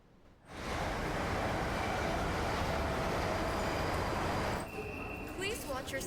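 A passenger train moves with a steady, loud broadband rumble that starts abruptly after a moment of quiet and holds evenly, easing slightly near the end as faint tonal squeals appear.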